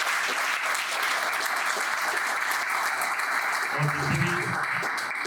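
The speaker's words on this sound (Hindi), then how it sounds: "गरिमा के प्रोत्साहन के लिए उसको एक ताली से स्वागत करें।" A crowd at a Republic Day celebration claps steadily and evenly throughout, a dense, sustained roar of hands with a faint voice surfacing briefly near the end.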